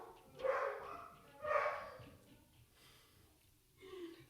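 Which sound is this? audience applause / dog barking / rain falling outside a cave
dog barking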